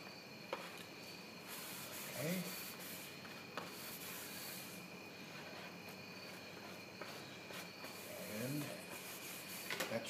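A squeegee rubbed over tissue laid on Mylar covering a model aircraft wing, a soft, steady scraping and rubbing close by and fairly quiet, with a few brief faint voice sounds.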